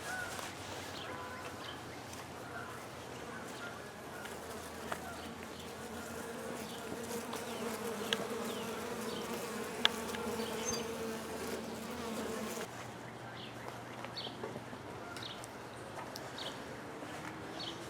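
Honeybees swarming around a newly installed beehive, a continuous faint buzzing hum of many insects with a few louder passes near the microphone and quiet outdoor ambience, no speech.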